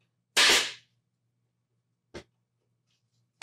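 A staple gun fires staples through canvas into a wooden stretcher frame: one loud sharp snap, then two quicker, quieter clacks spaced apart in a quiet room.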